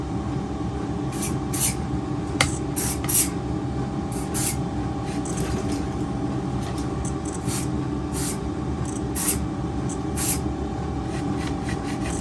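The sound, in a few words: squirting lubricant spray onto RC helicopter parts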